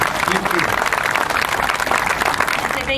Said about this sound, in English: how about we give a round of support and applause to these people?